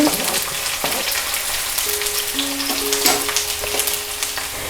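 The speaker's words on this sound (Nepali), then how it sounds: "मेथी फ्राई भइसकेपछि यसमा म लसुन राख्छु, प्याज पनि राख्छु," Garlic and onion hit hot oil with fenugreek seeds for a gundruk curry, giving a steady, close sizzle with a few soft clinks and scrapes of stirring throughout.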